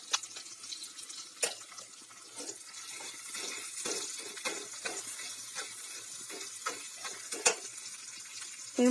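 Onion paste with mustard-poppy seed paste sizzling gently in a pan for a prawn poppy-seed dish, steady low frying hiss broken by scattered stirring scrapes and clinks, close and moderately quiet, no voices.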